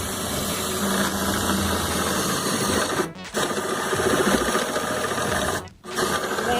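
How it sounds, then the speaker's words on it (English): A power drill runs steadily inside a Sprinter van during a second-row seat installation, a loud continuous whirring drone that briefly stops twice before resuming. "And we are drilling."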